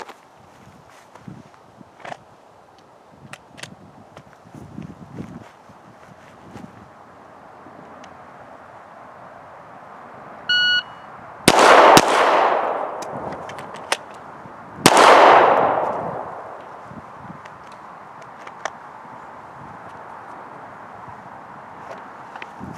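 Pistol shots at an outdoor shooting range during a speed reload drill: a timer beep, then a loud sharp shot with a short echo, a pause, and a second loud shot after the reload.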